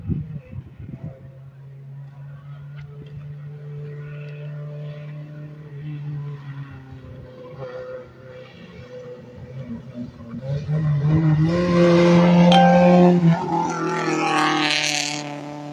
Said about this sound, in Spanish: Estamos escuchando rugir de motores a la distancia